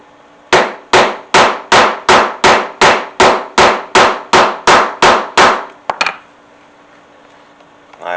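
Cupped setter struck on an anvil while setting hardware on a leather double magazine pouch: fourteen loud, evenly spaced hammer blows in a steady rhythm, then a brief scrape and quiet.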